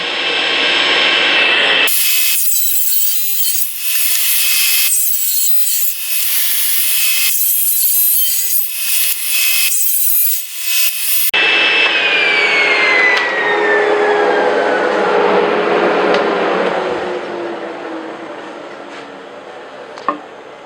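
A saw blade cuts through reclaimed wood with a loud, steady, close whine and rasp. The tone shifts partway through and falls away as the cut ends, followed by a single sharp knock.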